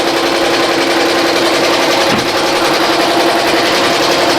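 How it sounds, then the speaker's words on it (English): An embroidery machine, a BAI Mirror 1501, stitches a sketch design onto a T-shirt with a steady, fast, continuous whirring hum at close range and no voices. "She's still stitching."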